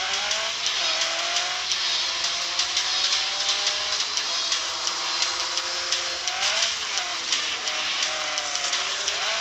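Racing video game car engine revving and accelerating steadily, with rising and falling tonal whine and continuous loud engine drone, no talk over it.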